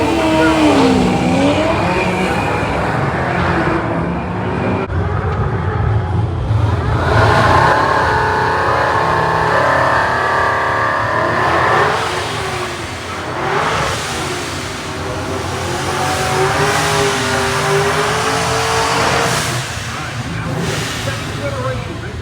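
Chevrolet Camaro engine revving at Irwindale Speedway during a hot rod tour, loud and close, with rising and falling revs, tire squeal and other car engines around, and people talking at times.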